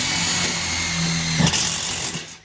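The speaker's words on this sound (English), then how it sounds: "It's very easy to drill a hole with a step bit, right?" A power drill with a step bit whines steadily at close range as it cuts a hole near the top of a boiler, rising briefly near the end before winding down.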